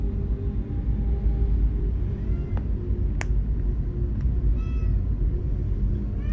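Cat meowing indoors, a few short faint mews scattered over a steady low rumble of background noise, with no talking over them.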